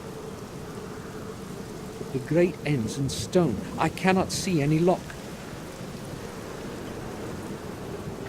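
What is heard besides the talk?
rain in the video game The Black Mirror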